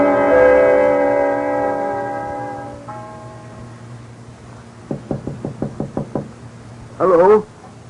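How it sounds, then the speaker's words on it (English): Eight sharp knocks on a door in quick, even succession in an old-time radio drama, following a sustained musical tone and ending with a brief warbling swell. "Somebody knocking?"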